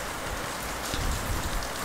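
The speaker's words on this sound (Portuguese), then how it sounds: "tá chovendo para um cacete." Heavy rain pours down steadily in a dense, loud, unbroken hiss of drops hitting surfaces nearby, with no voices.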